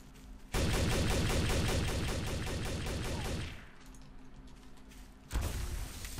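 Sustained automatic gunfire in the video game Trouble in Terrorist Town, a loud rapid stream of shots lasting about three seconds, then a quieter pause before another burst starts.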